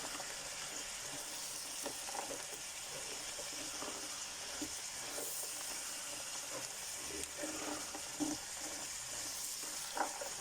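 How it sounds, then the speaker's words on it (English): Spices stirred into a simmering Portuguese bean stew in a pot, with a steady wet sizzle and bubbling throughout and soft scraping stirs near the pot, moderately quiet and continuous without talk. "Now I want to give that a stir before I put anything else in."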